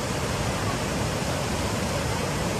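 Steady broadband rushing of a river running past a riverside tea spot, continuous and close, with no breaks and no talking over it.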